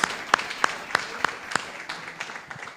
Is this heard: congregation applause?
yes